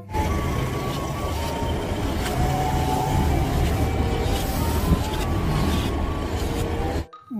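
A forklift engine rumbles steadily close by while repeated reversing beeps sound in a regular pattern over it, ending with an abrupt cut.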